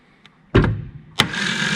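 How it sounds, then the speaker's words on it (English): Starter motor of a 1957 Lloyd LP600 spinning after a hammer tap: a faint tick, then a short loud whir that dies away, and a second whir that catches and keeps running to the end. "the starter will only run when I tap it with a hammer"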